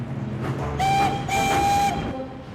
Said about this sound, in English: Then, Thomas heard some chuffing and puffing.